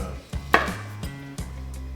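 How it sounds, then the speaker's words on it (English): Knife chopping vegetables into sections on a cutting board, four distinct thuds spaced under a second apart, close and clear over a steady background hum. "All you gotta do is just cut them up in sections like this"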